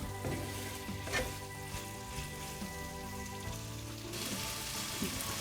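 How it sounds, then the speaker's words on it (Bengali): A steady sizzle and bubbling rise from a pot of potatoes, tomatoes and pointed gourd as a little water goes in, made for a fish curry. The hiss is continuous and close, with a faint tonal hum underneath and no talking. "আমি এখন এটাতে সামান্য পানি দিয়ে দেব"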